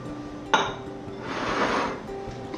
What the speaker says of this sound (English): And we'll whisk this all together.